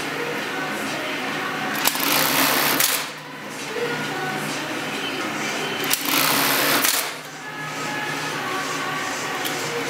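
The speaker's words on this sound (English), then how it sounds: "I'll bar tack this back pocket" An industrial sewing machine bar tacks the back pocket of denim jeans in two bursts of rapid, loud mechanical whirring, each lasting about a second and separated by brief pauses.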